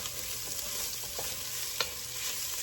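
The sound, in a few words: sauteing food in a pot for one pot pasta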